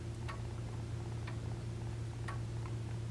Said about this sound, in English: We're getting a nice even tick, tock, tick, tock, tick, tock.